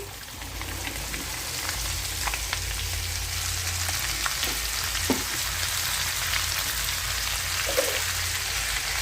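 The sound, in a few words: okra frying in a pan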